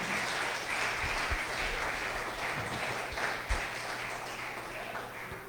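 Congregation applauding in a church service, a steady, moderately distant wash of clapping that holds evenly with a few low thumps mixed in.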